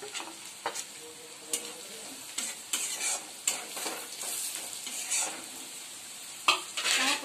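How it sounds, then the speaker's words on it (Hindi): Dried red chillies and turmeric fry in a pan for a mustard fish dish, a soft steady sizzle broken by repeated scraping stirs of a utensil against the metal, with no voice. "सुखिला लंका गुंड पकेबू। या परे हलदी गुंड पकेबू।"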